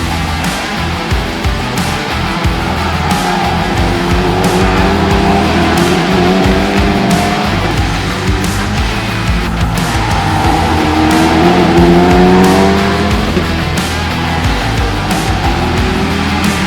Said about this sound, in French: On va se rendre sur la tribune 1 pour voir le départ en fait des Formule-Hoosier, genre de Formule 4 un petit peu surboosté là